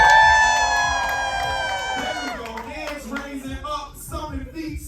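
An audience at a poetry slam erupts, screaming and cheering for a poet, loud and close, with a sustained high scream at first giving way to mixed whoops and shouts.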